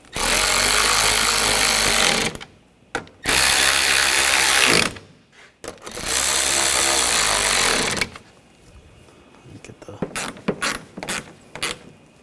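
A ratchet tightens the front bumper bolts on a 2007-2013 BMW X5 in three loud, rapid clicking bursts of about two seconds each, followed by softer scattered clicks and clinks.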